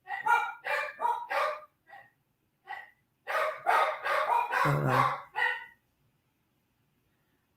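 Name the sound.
dog barking excitedly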